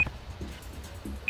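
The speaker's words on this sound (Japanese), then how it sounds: "あ、音聞こえてきた、タイマーの。" A bomb timer in the game Judge Eyes gives two short electronic beeps about 1.2 seconds apart, faint and set against low background hum.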